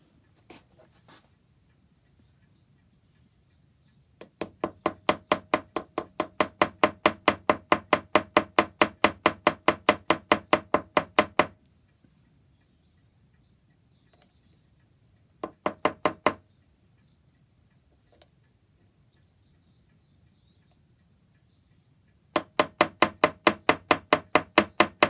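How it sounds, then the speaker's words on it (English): Rapid runs of sharp metallic taps from a small hammer setting rivets into brass lock parts for an antique clock cupboard, three bursts of steady even blows separated by quiet pauses. "I've just started riveting these little pieces in."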